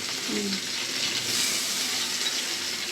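Fish fries in hot oil with a constant, close hiss and sizzle, and a voice briefly sounds faintly near the start.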